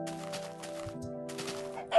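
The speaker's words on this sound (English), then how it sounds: "21 chickens so far, that's pretty good" A chicken clucking in a survival video game, a few short, close clucks in a quick run over steady background tones.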